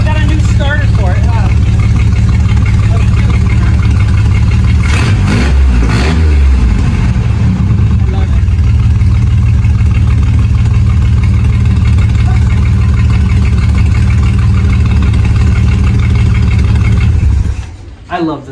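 An old car's engine, fitted with a new starter, runs loudly and steadily at close range with some revving early on, then shuts off near the end; voices talk over it.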